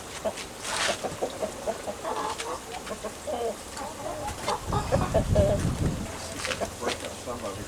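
Backyard homestead chickens cluck and squawk in scattered bursts at close to moderate distance outdoors, with a few louder calls and low rustling in the background.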